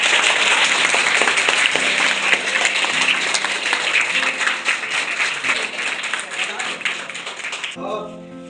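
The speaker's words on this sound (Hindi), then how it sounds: "ललिता मैम को रिटायरमेंट में योगदान दिए, उसके लिए एकदम जोरदार तालियां।" Loud, dense clapping from staff and pupils at a retirement farewell ceremony held at a school in Katihar, sustained for several seconds with voices mixed in before tapering off into quieter room sound.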